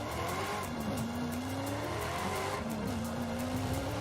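A car in Forza Horizon 5 accelerates hard as its tires squeal in long, wavering, high-pitched streaks over a steady engine roar, loud and close for the whole stretch.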